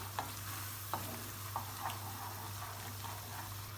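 Cream sauce for peppered pasta simmering in a pan, a quiet bubbling hiss with a few faint clicks of a utensil against the pan, no voices.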